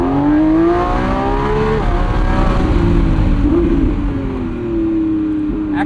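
A 2025 Lamborghini Revuelto with a 1,001 hp V12 accelerates on a night drive, its engine note climbing in loud rising sweeps through the gears with a brief dip at a shift, heard close from inside the car.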